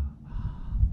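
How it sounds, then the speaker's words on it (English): A single audible breath drawn during a breathwork exercise, soft and close with a slight rasp. "And then I start moving to more of a rhythmic breathing."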